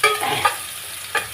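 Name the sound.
onion frying in pan with black cumin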